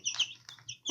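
Chickens cluck near a chicken coop, a few close, fairly faint chirpy clucks in quick succession over a quiet background.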